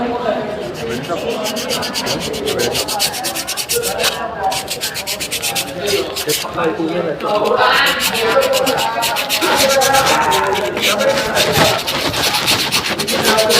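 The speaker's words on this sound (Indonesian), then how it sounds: "Kita amplas menggunakan amplas kasar." Coarse sandpaper scrapes over a car brake pad in quick, repeated rubbing strokes, close and loud, continuing throughout without pause.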